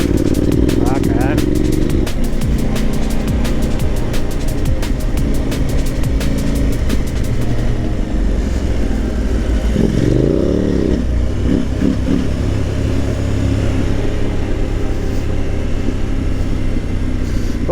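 A motorcycle on a road brakes hard and then revs its engine in rising, loud bursts, with steady wind roar throughout and a voice talking over it.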